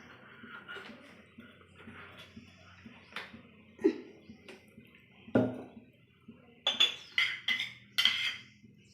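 A metal dabara pan is set down on a stove, giving a few sharp metallic clinks and clatters scattered among quieter kitchen knocks, close and fairly distinct.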